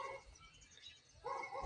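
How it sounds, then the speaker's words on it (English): Dogs bark at night, two faint yelping barks from a distance at the start and end with quiet background noise between them. "dogs everywhere barking tonight"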